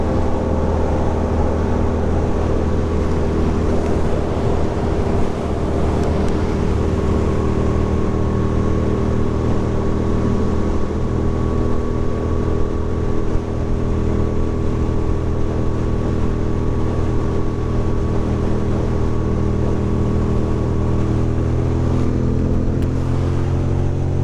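A car cruises along Route 3 in New Jersey on a foggy night, giving a steady, unbroken hum of engine and road noise with a faint tonal whine, heard alone with no talking.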